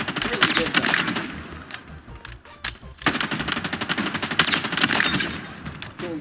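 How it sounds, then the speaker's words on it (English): Assault rifle fire in the Halo Infinite shooter: rapid, loud automatic bursts hammering almost continuously, with a short lull midway before the firing resumes. "The assault rifle feels really good though."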